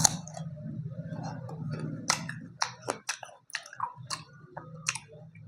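Crisp, wet chewing of a fresh persimmon fruit that looks like an apple when cut, with several close bites and squishy crunches in an irregular rhythm, following a low hum at the start.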